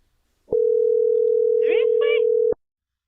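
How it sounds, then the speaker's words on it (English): A phone call rings out as a single steady electronic tone held for about two seconds, loud and clean, with a brief voice heard over it partway through. "let's give him a call."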